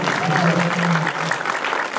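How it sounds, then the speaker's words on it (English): Audience at a winter documentary film festival screening gives a steady round of applause, dense and fairly close, with a voice speaking over the clapping. "All right, round of applause."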